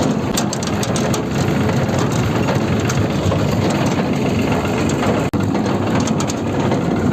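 A very old tractor on a rural coconut farm drones along steadily while carrying riders, a loud continuous engine rumble with rattling and no speech.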